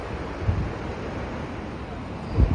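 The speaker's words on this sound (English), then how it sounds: "We get to listen to the ocean waves." Ocean surf at the beach in Lincoln City, Oregon, on a rainy day: a steady wash of waves with wind rumble, and low surges swelling near the start and again near the end.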